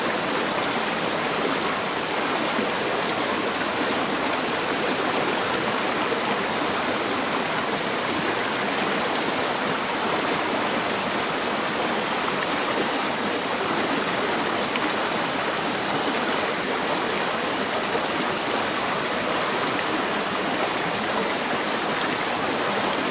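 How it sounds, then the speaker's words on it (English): A steady, full rush of a small waterfall in a state forest, close by and constant, with no voices over it. "it's a nice little waterfall up here."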